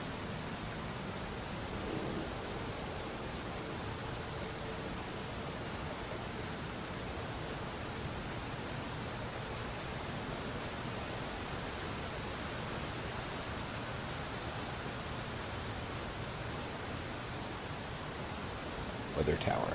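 Acid rain falls steadily in the sci-fi adventure game Gemini Rue, a constant hissing wash of rainfall at low level that holds unchanged from start to finish.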